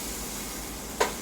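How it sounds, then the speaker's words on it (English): Onion cooking in butter in a hot pan gives a steady soft frying hiss throughout, with one brief louder crackle near the end. "we got the butter, we got the hot spots. Gonna do a little onion."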